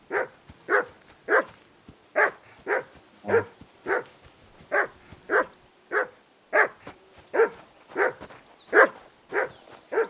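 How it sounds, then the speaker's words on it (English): A dog in the medieval video game Kingdom Come: Deliverance barks over and over in a steady, evenly spaced rhythm, about two barks a second, clear and moderately loud with no speech. "Henry, hey, call off that mutt of yours."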